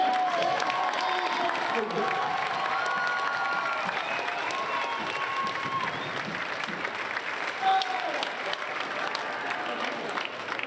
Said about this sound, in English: let's have a huge round of applause for our gold medalist sponsor division